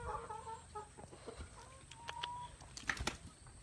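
Backyard chickens, both baby chicks and grown hens, cluck and cheep in scattered short bursts alongside a rooster, close by and fairly quiet, with no talk over them.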